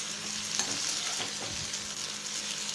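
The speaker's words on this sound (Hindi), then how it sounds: "अब इसमें हम कटा हुआ मिर्च को डाल देते हैं और इसे लगातार चलाते हुए मिर्च को हल्का भून लेते हैं" Chopped green chillies stir-fry in a pan with a steady hiss of hot oil and a few quick scraping stirs near the start, close and fairly quiet.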